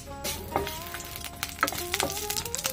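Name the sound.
dried red chilies frying in hot mustard oil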